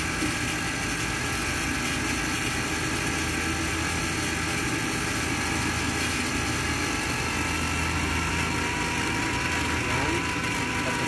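A 2012 Lexus LS 460 engine runs at a steady idle during a transmission oil change, giving a continuous, even hum close by with no talking over it.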